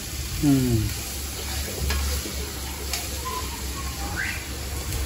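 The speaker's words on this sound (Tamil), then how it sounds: "இப்போ இது நல்லா வதங்கணும். நல்லா வெங்காயம் வதங்கினதும்" Onions, garlic and ginger sauté in a pan for shark puttu, a continuous sizzling hiss with occasional stirring scrapes, a low background hum and a few faint bird chirps.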